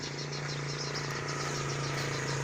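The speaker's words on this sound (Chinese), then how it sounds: "大青蛙、老青蛙的叫声" A chorus of frogs croaking and chirping in a pulsing rhythm, steady over an outdoor hum in a lotus field after rain in Guantian, Taiwan, with a low tonal drone underneath.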